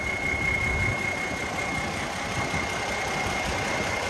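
A New Holland tractor with a 12x12 gearbox idles with a steady, rumbling diesel drone, close and constant, with a faint high whine above it and no speech.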